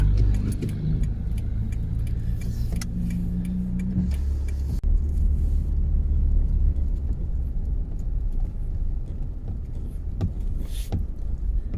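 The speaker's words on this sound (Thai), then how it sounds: "มีรถมา" A car passes on a wet road in the city of Udon Thani during a summer storm, its engine and tyre hiss rising and falling steadily under continuous rain noise, fairly close.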